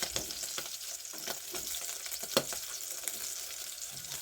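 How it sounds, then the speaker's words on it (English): Beef frying with tomatoes and onions for a stew served with ugali, a steady moderate sizzle with scattered scraping stirs and one sharper clink midway. "we fry our meat for ugali. Yeah, so let's put the tomatoes in it, the onions"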